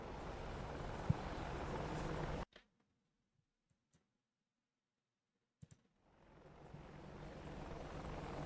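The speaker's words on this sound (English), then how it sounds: "Bunch of helicopters." Helicopter rotor and engine drone in the DCS combat flight simulator, a steady hum that cuts out abruptly into near silence with a few mouse or keyboard clicks, then fades back in.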